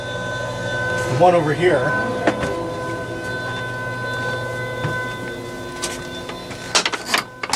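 A CNC router runs inside an enclosed dust- and noise-reducing cabinet, giving a steady droning hum with tonal whine and occasional clanks, while a person talks briefly over it.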